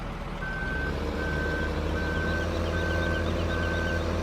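A big wheel loader in Farming Simulator 2015 sounds five evenly spaced, steady reversing beeps over a constant, loud diesel engine rumble.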